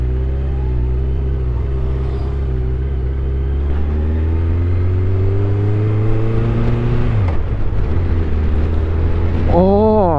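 A Honda CB1300 motorcycle engine pulls hard while riding, a loud, smooth, deep drone whose pitch climbs steadily, dips at a gear change, then rises sharply again, with wind rush throughout.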